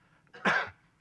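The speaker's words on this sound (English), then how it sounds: "pardon my cough" A single short, harsh cough or throat-clear, fairly close and alone against a quiet background.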